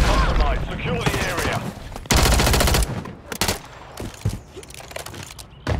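Rapid automatic gunfire in Call of Duty: Modern Warfare III ranked play, with several loud bursts and single shots close by, while players talk over the action.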